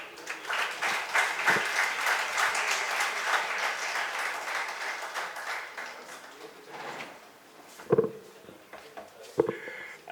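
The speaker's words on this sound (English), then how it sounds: "Another round of applause for the Lord Mayor." An audience applauds a speaker, the Lord Mayor, at a public gathering, with dense, sustained clapping that gradually thins and fades, followed by a few scattered louder claps near the end.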